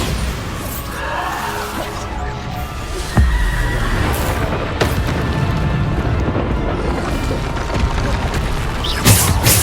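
Bombarda spell explosions in Hogwarts Legacy on PS4 Pro boom and crash loudly amid continuous game effects, with a heavy impact around the middle and another burst near the end.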